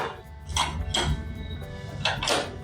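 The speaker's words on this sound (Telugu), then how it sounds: "స్టవ్ ముట్టించి ఒక పాన్ పెడుతున్నాను" A pan being set down on a lit stove, a few close metallic clanks and knocks of cookware spaced across a quiet kitchen background.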